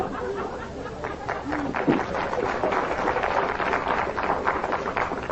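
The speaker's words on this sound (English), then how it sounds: "what you are doing is applauding for the universe, for its beautiful, simplistic design" An audience claps steadily through the whole stretch, a dense, even patter of many hands with some murmuring and light chuckling mixed in.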